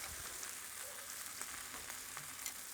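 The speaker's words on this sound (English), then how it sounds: "Give our bacon one more quick turn here" Bacon frying on a flat-top Blackstone griddle, a steady dense sizzle and crackle that holds constant throughout, close but fairly quiet with no voices.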